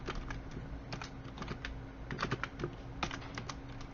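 Close, quiet keystrokes on a computer keyboard while entering text into an Excel spreadsheet, an irregular patter of clicks with slightly stronger taps now and then, no talking.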